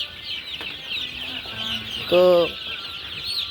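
Twelve-day-old cockerels on a small farm cluck during hot beak trimming: a steady wash of chick peeping with one louder, close burst of clucks midway, and a single brief spoken word.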